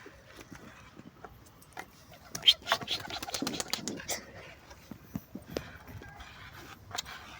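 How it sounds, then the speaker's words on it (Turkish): Collared dove calls faintly outdoors among sparse clicks and light knocking, with a cluster of louder sharp noises midway and quiet background murmur. "Kumruymuş."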